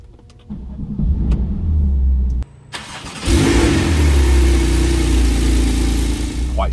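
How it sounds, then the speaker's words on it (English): A TechArt-tuned Porsche 911 Turbo S rated at 720 bhp cranks and fires up close by, a brief stumble, then the engine catches and settles into a steady, fairly subdued idle. "let's fire her up"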